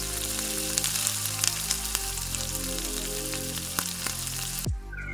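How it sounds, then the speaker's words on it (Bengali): Chopped garlic and chili frying in hot oil in a wok, a loud, steady sizzle with crackling spatters, over a low constant hum, cut off abruptly near the end. "এবার কড়াই তেল দিয়ে 1 চামচ রসুন কুচি, 1 চামচ লঙ্কা কুচি দিয়ে ভেজে নেব"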